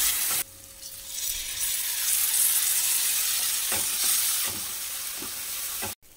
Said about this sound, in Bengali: এবার পুরটা ভাজতে ভাজতে এরকম হয়েছে